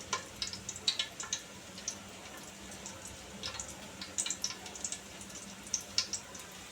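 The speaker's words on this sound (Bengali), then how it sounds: "এবার ঘি এবং তেলের মধ্যে দিয়ে দেব মশলা, গরম মশলার গোটা গরম মশলা।" Whole cardamom and cinnamon sizzle faintly in ghee and oil for khichuri, a quiet steady hiss punctuated by irregular small pops and crackles.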